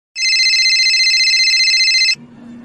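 A loud electronic phone ringtone plays steadily for about two seconds, a bright sustained warbling tone, then cuts off abruptly into a low hum.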